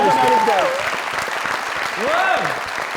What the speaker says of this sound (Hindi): जो गाती हैं अगर वो तालियां होगी महविश के लिए।